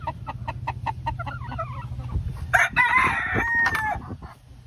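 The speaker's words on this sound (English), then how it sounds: "I have a white crested chocolate cuckoo rooster over white crested black hens." Polish chickens, a white crested chocolate cuckoo rooster with white crested black hens, clucking in a rhythmic series before the rooster lets out a loud, close crow.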